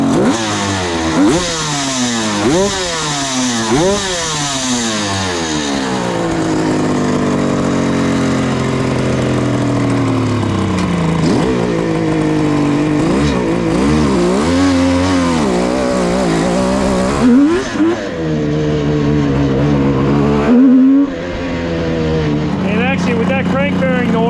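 A 1973 Kawasaki H1 750 two-stroke triple motorcycle running loudly and close, revving in repeated rising and falling sweeps before settling into a rough, uneven idle.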